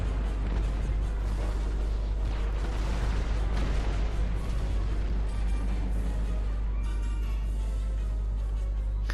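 Starship cannons firing in rapid succession in Star Trek Online, a dense barrage of booming bursts over a constant low hum, loud and continuous throughout.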